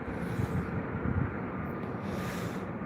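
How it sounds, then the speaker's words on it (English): Rolls-Royce jet engines on an Air India Boeing 777 bound for Mumbai roar at Heathrow Airport, a continuous broad, rumbling roar that holds steady and loud for a few seconds without talk. "Hear the roar of those Rolls-Royce engines."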